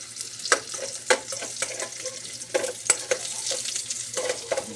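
Meat sizzling and frying in a pan, with repeated sharp stirring scrapes and clinks over a steady quiet sizzle, no talk.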